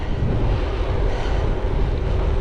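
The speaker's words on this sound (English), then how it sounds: "the wind is here, but it's swirling around" Wind roars across the microphone while cycling outdoors on a gusty day, a steady, loud, rumbling buffet that swirls without pause and with no voices.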